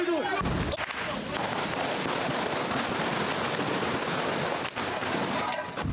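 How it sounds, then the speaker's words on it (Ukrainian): Dense, loud gunfire cracks and booms in a continuous noisy barrage during shelling at an airport terminal in eastern Ukraine, with a few sharper blasts standing out and voices faintly underneath. "Вони починають стріляти."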